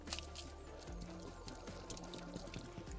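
Clean well water in Uganda splashing and spilling from a heavy container, a steady close pour with drips and trickles, alone without talk.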